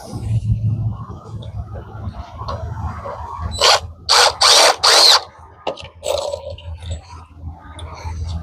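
A power drill driving screws into the wall framing of an 8x8 side wall for an off-grid tiny house, three loud close bursts of whirring and ratcheting amid handling noise and quieter shuffling.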